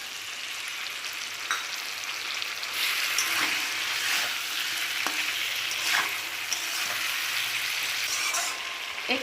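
Vegetables with poppy seed and mustard paste sizzle steadily in a pan for a spiced bitter gourd dish, with occasional stirring scrapes and crackles and no talking.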